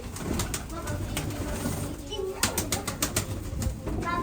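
Pigeons coo and flutter nearby against steady background noise, with occasional voices in the distance.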